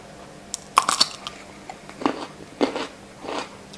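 Crunchy raw Jerusalem artichoke being bitten and chewed in a home kitchen, a sharp close bite followed by several crisp crunching chews at irregular intervals, alone with no talk.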